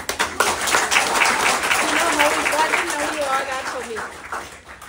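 Students at a farewell break into loud, dense applause that runs throughout, with cheering voices and chatter mixed into the clapping.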